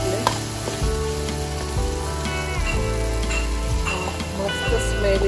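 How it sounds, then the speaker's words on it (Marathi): Spice masala fries in oil over a wood-fire stove, making a loud, dense, continuous sizzle with occasional stirring scrapes and a low steady hum underneath. "आता मस्त आपलं तेल सुटलंय मसाल्याला. व्यवस्थित आपण मसाले परतून घेतले."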